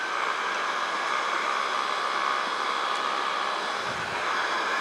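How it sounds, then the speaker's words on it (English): A hair dryer blows steadily at close range, a constant rushing whoosh with no other sounds. "I'll let you hear a hairdryer just for a second."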